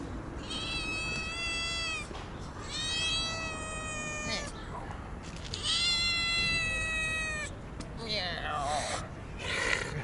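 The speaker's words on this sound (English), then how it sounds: "Meow." A stray cat in Tbilisi, Georgia meows several times close by in drawn-out, wavering cries with short pauses between them, over steady outdoor street noise.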